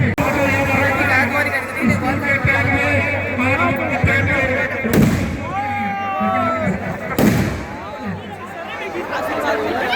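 Firecrackers crackle and burst continuously through a Durga idol immersion procession, with a crowd chattering and cheering throughout and two sharp louder blasts standing out.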